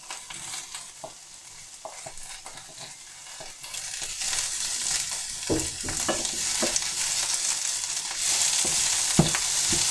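Sliced peppers frying in a pan with carrot, onion and beans for vegetable rice: a continuous close sizzle with scattered stirring clicks and scrapes, growing louder and denser toward the end.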